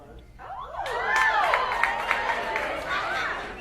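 Audience at a stand-up comedy show in Cincinnati bursts into scattered clapping and cheering that swells and lingers, mixed with crowd chatter and laughter.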